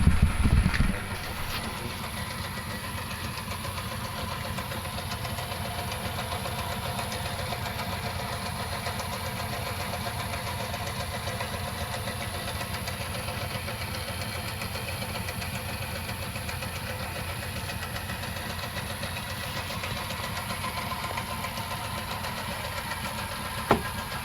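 A metalworking lathe runs with its carriage gearbox turning, giving a steady, even mechanical hum and whir that holds at constant level, with a brief clunk at the start and another near the end.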